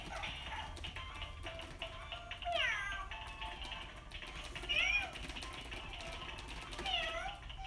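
A cat meows several times during a home play session with toys, with clear, fairly close calls spread across the clip and low room noise between them.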